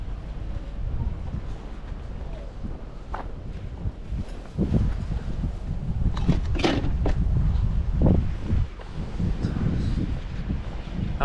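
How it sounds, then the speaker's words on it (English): Wind gusting outdoors in the dark before sunrise, a steady low roar buffeting the microphone with occasional rustles and footstep-like thuds, louder in the second half, with no talking. "Yeah, dark and windy."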